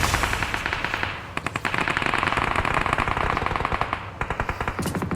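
Rapid automatic gunfire from the battle royale game BGMI comes in long, dense rattling bursts with a brief pause partway through, loud and close, with no talking.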